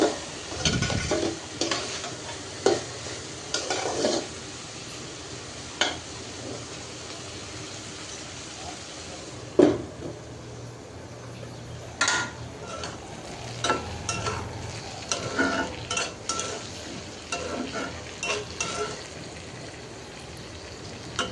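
Bottle gourd and potato being stir-fried in a pan, with intermittent scraping and stirring clatters over a soft, steady sizzle, fairly close.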